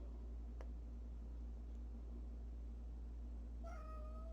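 A cat gives a single short meow near the end over a loud, steady low hum and hiss from a fan or motor, otherwise quiet.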